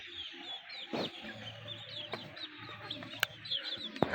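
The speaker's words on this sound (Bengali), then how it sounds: "এই যে এই মুরগিটা কত সুন্দর ডাকতেছে" A hen clucks softly and repeatedly at close range while chicks feed, with a few louder squawks, and faint chirping from other birds in the background.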